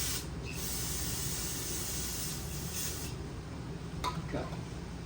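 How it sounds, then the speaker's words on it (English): A steady hiss of cleaner sprayed from a spray can onto a greasy part of a 1970 Pontiac LeMans runs throughout, broken by short pauses, with a low background rumble. "We'll spray it with a cleaner again."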